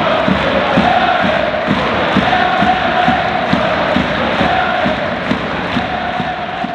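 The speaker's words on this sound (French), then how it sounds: "mesdames, messieurs, un tonnerre d'applaudissements" A large football stadium crowd of Nice supporters roars and chants, a loud continuous wall of cheering with rhythmic clapping beats running underneath at an even pace throughout.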